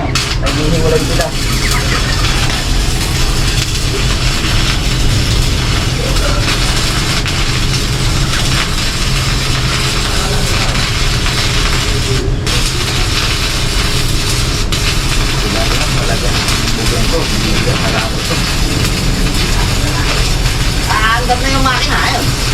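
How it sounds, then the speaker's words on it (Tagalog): A motorcycle with a sidecar runs its engine steadily for the whole stretch, a low continuous drone close by, while people talk over it at intervals. "Andam na yung makina, ayun. Andam na ulit."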